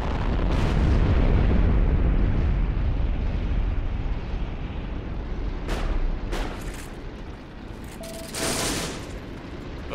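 A Sherman tank blows up in a WWII tank battle game: a loud, sustained explosive roar with crackling blasts fills the opening seconds, then sharper bursts and debris cracks follow as the rumble fades.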